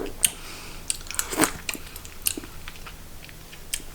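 Someone chews a piece of briny mackerel while tasting it, close up: wet, soft bites and squishy mouth sounds arrive in irregular bursts, with some sharper crunches.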